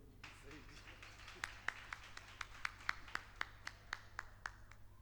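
A handful of people clap in a slow, uneven rhythm, sharp individual claps standing out over low background hum and murmur, during a church gathering.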